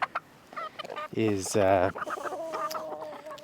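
Backyard flock of about 18 chickens clucking in short bursts near the microphone, with a louder squawking run in the middle, while a person talks over them.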